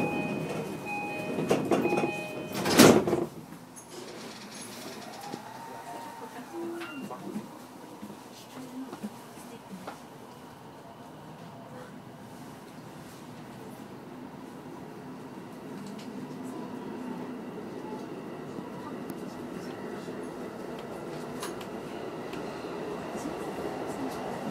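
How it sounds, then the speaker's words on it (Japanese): A short loud clatter as train doors shut, then the low rumble of a Keiyo Line rapid train for Soga pulling away from a platform and gradually building speed, with Japanese announcements heard early on. "電車が発車します。 ドアが閉まりますから、"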